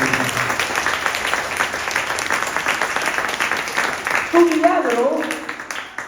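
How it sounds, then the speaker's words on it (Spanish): Church congregation applauding strongly, a steady wash of clapping running through the whole stretch while a preacher speaks over it. "Dale un fuerte aplauso al Señor"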